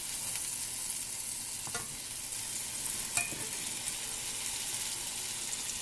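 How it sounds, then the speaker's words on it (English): A classic cheeseburger patty sears around the edge of a hot skillet, giving a steady, even sizzle throughout, with a couple of faint utensil clinks partway through. "my burger around the edge of the skillet to kind of get the edges kind of seared"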